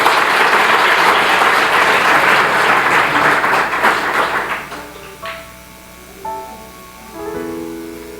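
A church congregation applauds loudly and steadily for about four and a half seconds, then the clapping thins out and gives way to sustained musical tones.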